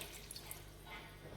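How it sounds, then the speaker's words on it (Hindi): Chilled water pours from a jug into an open bowl while homemade butter is being made, a steady, fairly quiet splashing and trickling running through the whole moment. "अब हम एक इस तरह खुले से बॉल में 1 जग चिल्ड वाटर ऐड करेंगे।"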